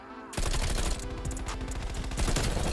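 Rapid, dense gunfire from a Call of Duty Black Ops Cold War 2v2 match on Nuketown kicks in abruptly after a brief quiet moment and rattles on loud and continuous, with overlapping bursts.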